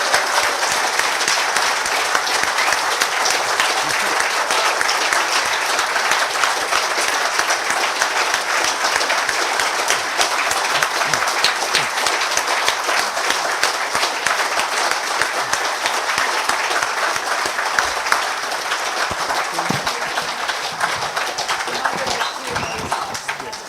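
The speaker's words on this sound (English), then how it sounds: "may I ask you for a round of applause for our panel of distinguished guests" A conference audience gives a panel of guests a sustained round of applause, dense steady clapping filling the hall for over twenty seconds without letup.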